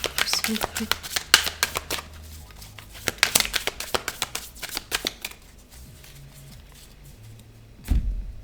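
Tarot cards shuffled and drawn by hand, a dense run of quick crisp riffling flicks over the first five seconds, then quieter handling, with a voice talking throughout.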